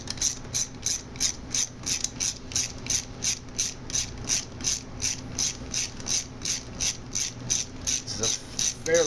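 A hand ratchet loosens clutch cover bolts on an ATV, producing crisp, close, rhythmic clicking in quick repeated bursts, about two strokes per second, with no talking.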